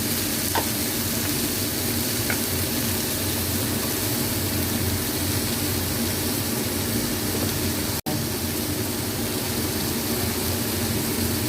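Tomato fries with onion and cumin powder in a hot pan, giving a loud, even, continuous sizzle that hisses without pause, close up and with no voices.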